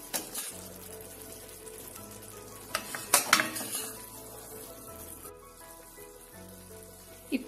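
Masala sizzles in a hot pan and is stirred, with a steady frying hiss and clinks and scrapes of the utensil against the pan. The sound is close but fairly quiet, with a few louder stirring bursts and no talking.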